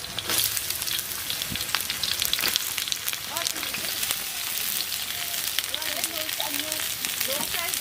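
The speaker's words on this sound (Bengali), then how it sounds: "এবার এটা আমি ভাজবো, ব্রাউন ব্রাউন করে নেবো পেঁয়াজটা।" Chopped onion frying in hot oil at an outdoor pond-side picnic: a crackling sizzle with scattered pops, while voices murmur in the background through the second half.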